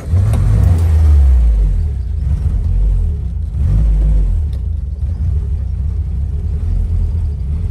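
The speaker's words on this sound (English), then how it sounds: "quick view of startup and idling on this 1965 Herald." A 1965 Triumph Herald 1200 convertible engine turns over and settles into a loud, close, rumbling idle that runs slightly erratic and uneven throughout.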